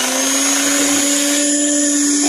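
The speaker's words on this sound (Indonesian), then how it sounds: "Kemudian si Abah akan aduk ya, kita kocok dengan mixer" An electric hand mixer beats cake batter for coconut-cheese pukis, giving a loud, steady motor whine with a strong pitched hum that runs unbroken throughout, with no talking.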